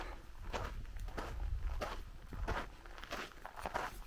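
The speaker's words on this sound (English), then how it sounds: "there's not a single sound out here except for my footsteps" Footsteps crunch across desert sand and rocks on a solo hike in Anza-Borrego, in an even walking rhythm of close, gritty steps with nothing else around them.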